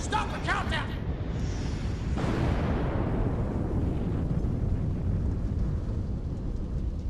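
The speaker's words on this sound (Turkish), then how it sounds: "Olduğu yerde patladı herhalde" In the video game Destroy All Humans, a deep, rumbling explosion bursts out and lingers as a long roaring blast, following a brief higher electronic warble at the start.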